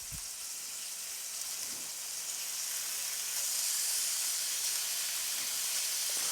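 Chicken strips sizzling in a frying pan with bacon, a steady bright hiss and crackle that grows slightly louder partway through, with no talking.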